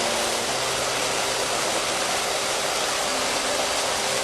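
An electric farm water pump runs steadily, and its outlet water gushes in a continuous loud rush. A faint low motor hum sits beneath the broadband flow. Nobody speaks.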